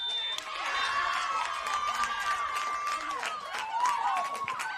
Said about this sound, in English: Much to the applause of the Boroondara fans